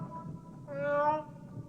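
A single cat meow from the 1979 film Alien rises for about half a second over a low, muffled background hum.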